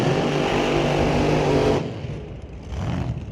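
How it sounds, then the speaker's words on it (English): A 2001 LeKelt-built dragster racing down the drag strip at Mission Raceway Park, a loud, dense engine roar that cuts off abruptly into a fading, rumbling tail. "In a 2001 LeKelt built dragster."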